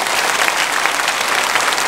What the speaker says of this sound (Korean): 오늘 우리에게 처음 출석하신 새가족 여러분을 박수로 환영하겠습니다.